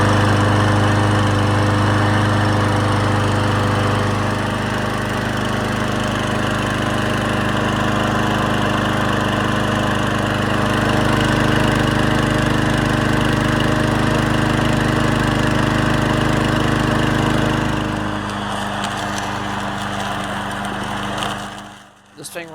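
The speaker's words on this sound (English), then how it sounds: "This thing runs fine, and the self-propulsion works great, and all the smoke and all the dust that was in the exhaust is burned off." An old self-propelled lawn mower engine runs steadily and loudly at close range, a constant droning hum that holds for most of the time, then drops in pitch and load near the end before a brief dip.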